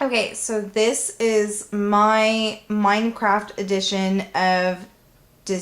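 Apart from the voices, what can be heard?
No everyday noise stands out behind the speech.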